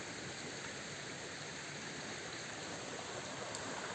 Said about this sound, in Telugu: ఫుల్ వర్షం పడుతుంది, పక్కనే గోదావరి.